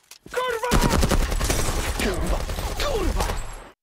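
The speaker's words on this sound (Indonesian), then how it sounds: "secara mengejutkan Mrauka membalas dengan beberapa tembakan" Rapid bursts of gunfire crackle loudly and continuously, dense overlapping shots with a few shouting voices briefly mixed in before the noise cuts off.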